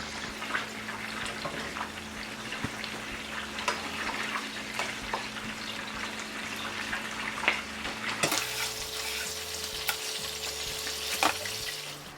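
Potato wedges frying in hot oil give a steady, dense sizzle with crackling pops throughout, the bubbling shifting slightly in tone partway through; no one speaks.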